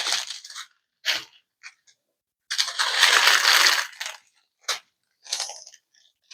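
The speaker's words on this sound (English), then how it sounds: "So many crinkles today." Packaging crinkles during an unboxing of a haul, in irregular bursts of crackling plastic, short snaps and one longer rustling stretch, close to the listener and with no one talking.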